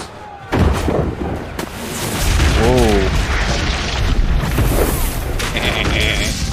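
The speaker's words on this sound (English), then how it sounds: "A sound that some of you haven't heard for a while, of the cannons trading barrages back and forth to each other's ships" Cannon fire from warships trading barrages sounds as a sound effect during a tabletop fantasy game session, with deep repeated booms and rumbling blasts that roll together loud and heavy, and someone briefly exclaims over them.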